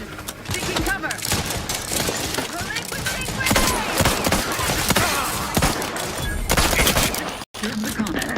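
Sustained gunfire in The Outer Worlds 2, dense overlapping shots and bursts crackling loudly throughout with a brief dropout near the end, mixed with game action noise.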